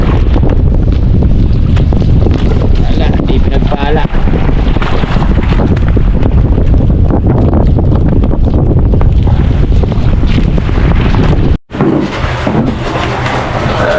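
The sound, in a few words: boat engine running at sea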